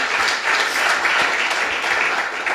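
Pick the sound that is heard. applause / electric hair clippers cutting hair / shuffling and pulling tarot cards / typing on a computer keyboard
applause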